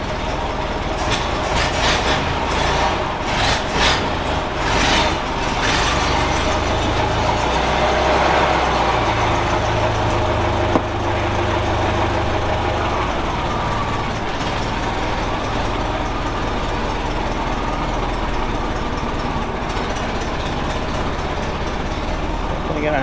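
A 1917 Ford Model T engine runs with a steady, rumbling, clattering low drone, loud and close, with a few sharp knocks early on and a brief snap partway through.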